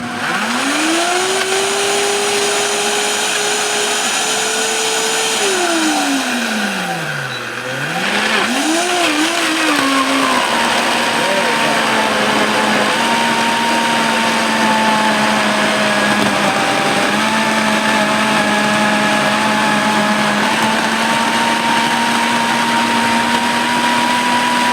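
An electric hand mixer whirs steadily through vegan sweet potato pie filling, its motor pitch rising, dipping and bouncing as it loads and frees up, then settling into a loud, even drone for the rest of the time.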